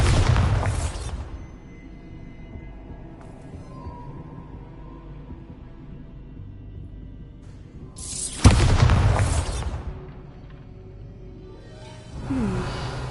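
Two Bombarda spell explosions in Hogwarts Legacy, each a deep booming blast with a bright burst that fades slowly, the second heavier, plus a smaller thud at the close over quiet game ambience.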